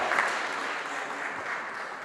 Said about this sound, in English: Please, another round of applause for Dr.